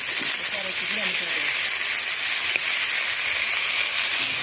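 Onion, chili, garlic and potato-cauliflower fry in hot oil, giving a dense, steady hiss and sizzle close up throughout, with no talking.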